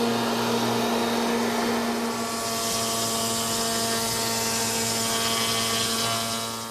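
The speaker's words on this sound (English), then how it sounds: "I happen to have a molding machine. It has a cutter head with 2 knives that turn at a very high rate of speed." A shop molding machine with a two-knife cutter head spinning at very high speed gives a loud, steady high-pitched whine and roar, holding constant throughout with no voices.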